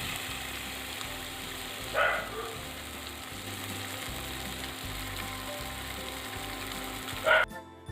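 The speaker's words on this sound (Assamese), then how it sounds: "তেল গৰম হৈ গৈছে, এতিয়া মই মাছকেইটা ফ্ৰাই কৰি ল'ম।" Fish frying in hot oil in a pan, a steady crackling hiss under an indoor hum, broken by two louder clattering bursts of utensil against the pan.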